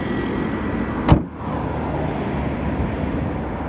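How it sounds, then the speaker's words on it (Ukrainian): A 2017 Hyundai Ioniq petrol-electric hybrid engine idles with a quiet, even, vibration-free hum, interrupted once by a short sharp click or knock. "почуємо, як працює двигун. Рівненько, тихенько."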